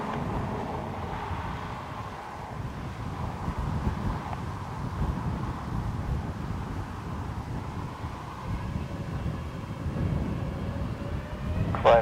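An airliner taking off from runway 10 right at Dublin Airport, heard from a distance as a faint, steady jet roar mixed with wind rumble, swelling slightly toward the end.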